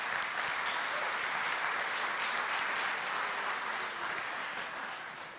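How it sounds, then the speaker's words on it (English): Church audience applauding steadily, a dense wash of clapping that holds for several seconds and then slowly eases off, with no one speaking. "Let's give them a round of applause."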